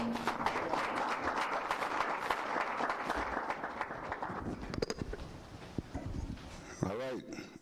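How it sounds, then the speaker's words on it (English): Audience applause for a panel at a Greensboro City Council retreat rises as sustained clapping, then thins into scattered claps as talk takes over. "Let's give a round of applause to our panel."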